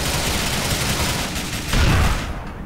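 Rumbling gunfire and blasts from GTA IV fill the clip, with a heavier grenade explosion swelling near the end over the ongoing loud, close combat noise.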